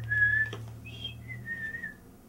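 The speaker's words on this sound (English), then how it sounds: "And this is Stanley and now he'll make his noise" Stanley, a Moshling creature in the Moshling Zoo DS video game, makes its noise: a short series of bright, whistle-like chirps with rising and gliding tones over a low hum, close and moderately loud.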